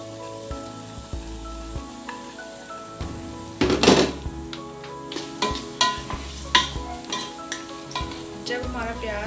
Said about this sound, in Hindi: जब हमारा प्याज थोड़ा सा रेड हो जाएगा तब तक हम इसको ऐसे भूनते रहेंगे।